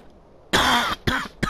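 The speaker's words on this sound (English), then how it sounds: "coughing." Three harsh coughs close to the mic during play of Borderlands Remastered, the first longest, separated by short pauses.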